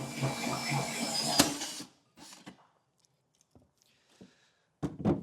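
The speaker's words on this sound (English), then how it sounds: "we're going to need a 4-inch hole saw" A 4-inch hole saw cutting through a truck bed with a spray-in liner, with a loud grinding whir for about two seconds, then short bursts of cutting between pauses.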